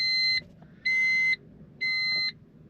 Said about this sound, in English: Let's turn our key on. We'll get our normal Honda beeps.